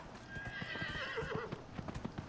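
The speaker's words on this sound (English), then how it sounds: "Alright, horse, let's go." A horse's hooves clip-clop steadily at close range in Dragon Age: Inquisition, the rhythmic footfalls heard together with a whinny, with no talking.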